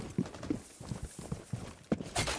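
Horse hooves clip-clopping in a multiplayer video game, a quick, steady run of about seven hoofbeats at close range, with no talk over it.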